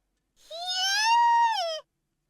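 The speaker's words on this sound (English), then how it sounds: "I hear screams from behind me." A single sustained, tonal scream of about one and a half seconds from a visual novel video game, steady and clear, rising slightly before it cuts off, with no talk over it.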